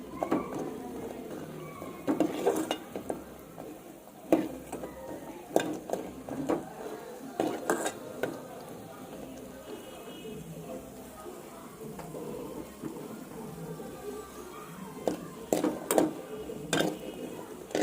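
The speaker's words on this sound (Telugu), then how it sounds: "ఇందాక చెప్పిన వడియాలను ఇందులో వేసుకుని గోల్డెన్ బ్రౌన్ కలర్ వచ్చే వరకు వేగించుకోవాలి" Pesara vadiyalu, moong lentil dumplings, frying in a pan of oil and stirred until golden brown, with repeated scraping clinks and clatters of the spoon against the pan over a low background.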